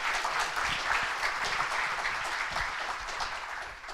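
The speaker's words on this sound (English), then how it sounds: "which I think is already worth an applause" A conference audience at a KubeCon hackathon-winners talk claps together, a dense, even burst of applause that holds steady and tails off slightly at the end.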